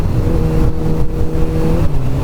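A Kawasaki ZZR1400 motorcycle engine runs loud and close, holding a steady throaty rev with slight dips, no voices over it.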